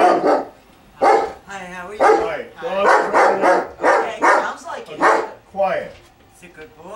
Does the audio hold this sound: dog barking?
yes